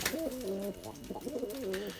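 Turkish performing pigeons coo nearby in soft, rolling phrases, two or three calls in a row against faint background noise.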